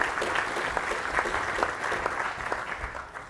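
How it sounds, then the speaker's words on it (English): A conference audience applauds to welcome the panelists at an organic produce session, a dense, steady round of clapping that fills the whole stretch with no talk over it. "let's give a round of applause welcoming our panelists"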